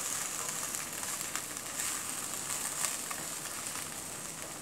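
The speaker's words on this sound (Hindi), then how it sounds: "अब इसको मैं हाई फ्लेम पे बहुत अच्छी तरह टॉस करते हुए पकाऊंगी" Julienned carrots and capsicum sauté on a high flame for chicken chow mein, a steady, close hissing sizzle with faint crackles and occasional louder spits, no talking over it.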